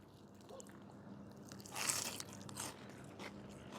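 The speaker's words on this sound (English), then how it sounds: "I really like that crunch on the batter." A big bite into crisp battered fish drizzled with lemon gives a loud, brief crunch near the middle, with a few softer crunches after it, all close and with no talking over it.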